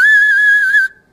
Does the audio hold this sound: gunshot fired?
no